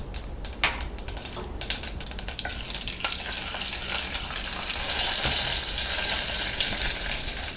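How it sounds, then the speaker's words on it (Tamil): Mustard seeds, fenugreek, chana dal, urad dal and cumin sizzle and crackle in hot oil for a sambar tempering, with dense rapid popping at first settling into a steady close hiss. "கடுகு நல்லா பொரிஞ்சிட்ருக்கு"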